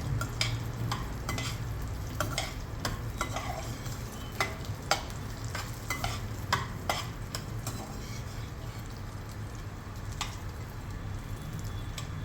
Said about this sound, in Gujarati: કાજુ અને બદામ ફ્રાય થઈ ગયા છે